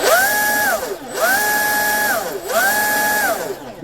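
Brushless motor of a Blackjack 24 RC vehicle, stock 2200kv with a 120A ESC on a 6S battery, revving in three repeated spin-ups, each whining up to a high steady pitch and dropping back, loud and close.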